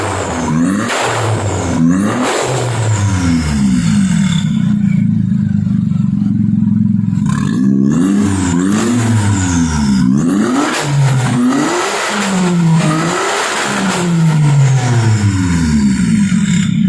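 Engine of a red Perodua Kancil fitted with an Avy turbo, loud and close, revved repeatedly in rising and falling sweeps with brief dips to idle between blips and a clattery mechanical undertone.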